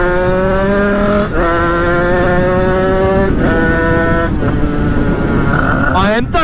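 A loud motorcycle engine runs close by, revving repeatedly in rising and falling surges with brief dips between gear changes.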